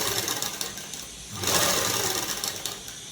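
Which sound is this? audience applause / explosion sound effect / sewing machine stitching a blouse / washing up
sewing machine stitching a blouse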